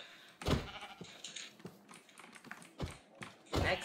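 Sheep in a video game bleat in a few short, close bursts, mixed with soft clicking like keyboard taps between them.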